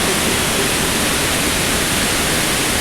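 Hogenakkal Falls roaring, a dense, loud and unbroken wash of rushing water with no pauses.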